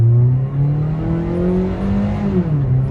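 A Toyota Vios fitted with a single AZC exhaust revs up close and loud, its low engine drone rising and holding, then easing back, with no talking.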